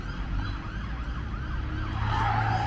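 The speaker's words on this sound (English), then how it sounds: "Oh, we've got the police going by there a lot." A police car siren wails steadily as it passes along a street, rising and falling in pitch over a constant road rumble, with no voices.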